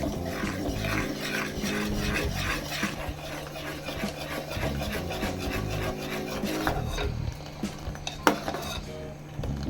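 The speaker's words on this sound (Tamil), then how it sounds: "இதை கலரி விட்டுக்கலாம்." A spoon or spatula stirs boiled milk in a pan for milk pudding, making steady, rhythmic rubbing and scraping strokes close up, which loosen and become irregular toward the end with a sharp clink.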